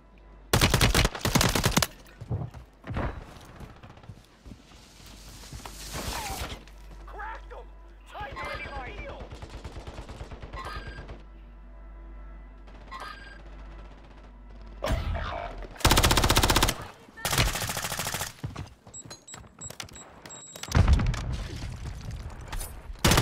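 Automatic weapon gunfire in Modern Warfare 3, with repeated loud bursts and single shots spread over the stretch, mixed with game sounds and talk.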